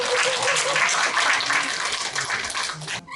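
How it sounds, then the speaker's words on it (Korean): Sustained clapping from an audience at a Korean community ceremony marking 160 years of Koryo-saram migration, steady and fairly close, then cutting off abruptly at the end. "자, 다시 한번 큰 박수를 보내주시기 바랍니다."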